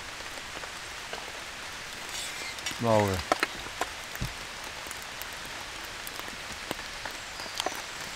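Rain falls on a mountain bivouac as a steady, soft patter of drops, broken by a short chirping sweep and a brief spoken voice partway through.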